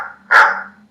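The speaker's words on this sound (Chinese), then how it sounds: "狗叫。" A single loud, close dog bark rings out sharply and fades quickly, with nothing else around it.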